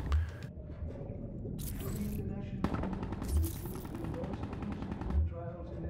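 Automatic gunfire from the video game Call of Duty: Black Ops 3 campaign rattles in several long sprays and bursts with sharp impacts, loud and close, separated by brief pauses and with game sounds underneath.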